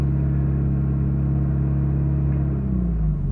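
A car engine with a Pierburg 2E2 carburettor idles steadily after a cold start, then its low, continuous rumble audibly drops in pitch as the idle speed falls near the end; nearby and loud, with no voices.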